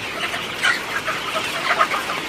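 Sonali super hybrid chickens clucking inside a warm poultry house, a close, busy chorus of soft overlapping clucks over a steady background hum.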